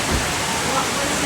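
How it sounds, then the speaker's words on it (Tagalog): Heavy rain pours down in a dense, loud, continuous hiss with no gaps. "Malakas ang ulan."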